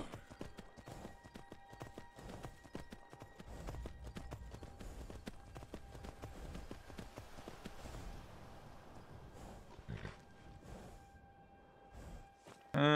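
Horse hooves clip-clop steadily while riding in the Skyrim VR video game, a continuous rhythmic patter of hoofbeats over faint ambient game sound, ending with a brief louder burst.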